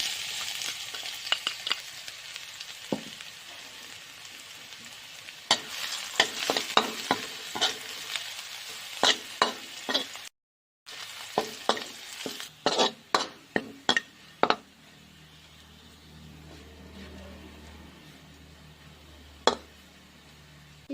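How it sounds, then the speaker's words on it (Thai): Garlic fries in a little oil in a pan while a utensil scrapes and clinks against the metal in scattered sharp strokes, with a soft sizzle underneath and a quieter stretch near the end. "เจียวกระเทียมก่อนนะเจ้าเดี๋ยวเอาพริกไปพัดนะ"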